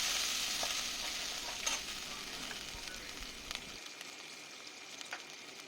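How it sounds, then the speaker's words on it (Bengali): Pabda fish curry base of ginger paste and a splash of water frying in a pan, giving a steady, close, hissing sizzle with a few soft stirring knocks and no voices. "দিয়ে এটাকে ভালো করে ভেজে নেব।"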